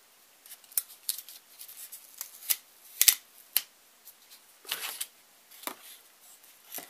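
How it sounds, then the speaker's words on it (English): Masking tape is peeled in short crackling strips from a freshly blue-painted model Class 87 locomotive, a quick series of close, dry rips and ticks with brief pauses between them. "I can remove this masking tape now."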